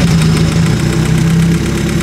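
A car engine, recently topped up with oil after being found empty, runs steadily close by with a rough, slightly knocking idle and continuous mechanical vibration.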